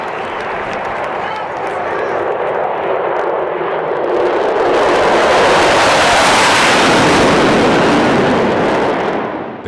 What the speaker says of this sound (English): these two F-18s flying too low over a football game in Atlanta